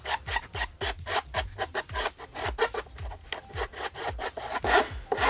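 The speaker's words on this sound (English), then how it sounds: "And now I will just smooth the cut with a nice medium file." A medium file smooths a cut edge in the tail plastic of a 2007–2012 Honda CBR600RR, giving quick, regular rasping strokes, close and clear with no talk.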